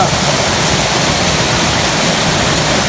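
A stream in the Konkan rushes loudly and continuously, a dense, unbroken roar of flowing water close at hand with no other sounds.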